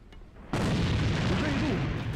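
A grenade detonates in a video game with a sudden loud boom, then a long rolling rumble and debris wash that sustains to the end, after a short quieter lead-in.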